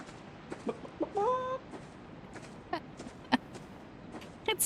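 Chicken in the game Back to Hearth, a series of short, fairly quiet clucks and squawks scattered irregularly, one drawn-out tonal cackle near the start, with soft ambient background between.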